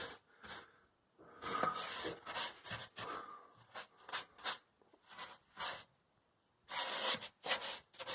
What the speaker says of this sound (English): The rollers don't do corners very well, so we just slop it with the brush.